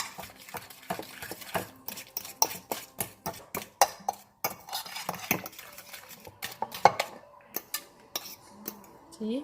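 Mashed banana, sugar and spices are mixed in a bowl with a metal utensil, producing rapid close clinks and scrapes against the bowl in uneven bursts with brief pauses, no speech.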